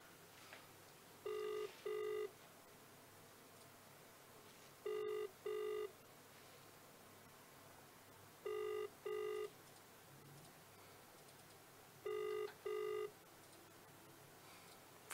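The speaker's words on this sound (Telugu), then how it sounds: "ఫోన్ లేపుతలేదు." A telephone rings unanswered, four separate double-burst rings spaced a few seconds apart, faint and thin over a quiet background with no talking.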